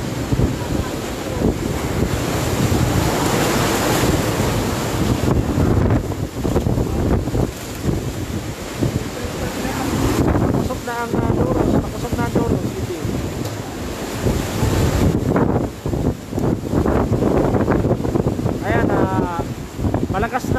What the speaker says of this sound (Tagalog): Malakas na ang hangin na mga kapatid dito sa location natin sa Naga City Police Office